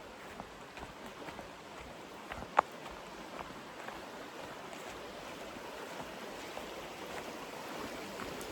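Cut Bank Creek flows as a faint, steady wash of water at a campground, a soft continuous rush with one small click and no talk.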